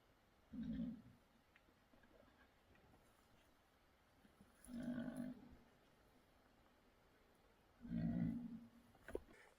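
An agitated bighorn sheep in rocky canyon country gives three loud, harsh bleating calls spaced a few seconds apart, fairly close over otherwise quiet outdoor air.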